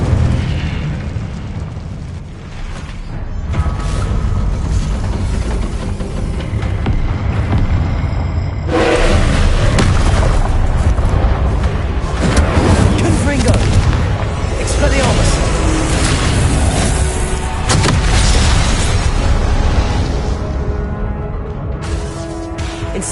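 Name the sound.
Incendio fire spell blasts in Hogwarts Legacy video game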